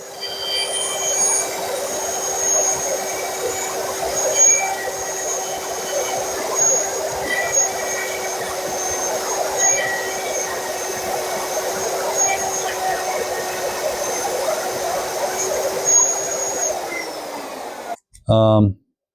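A router cutting freehand into a Telecaster guitar body gives a loud, continuous motor whine over a rough, grinding roar of wood. It runs steadily and close, then cuts off abruptly near the end, followed by a brief different burst.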